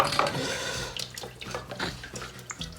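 Coolant squirts and splashes from a loosened water pump on a Holden 202 engine in an HZ Kingswood, a close, continuous watery spray with small drips.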